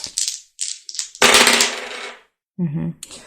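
Dice rattle and tumble across a surface in several short clattering bursts, close and crisp, with a longer rolling clatter in the middle and brief pauses between throws.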